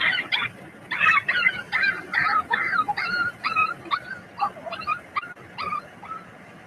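A dog's barks, yips and whimpers play back from a recording, a steady run of short, high, strained cries repeating for several seconds at close range.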